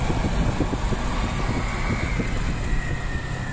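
A 600cc Ducati escort motorcycle rumbles nearby with a steady, low engine drone amid continuous road and traffic noise.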